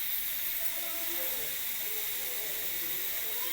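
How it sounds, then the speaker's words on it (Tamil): Pirandai (adamant creeper) frying in hot oil, giving a steady, even hiss with a bubbling sizzle that holds unchanged from start to finish, close up and fairly soft. "பிரண்டை வறுத்தோன்னு காமிக்கிறேன்."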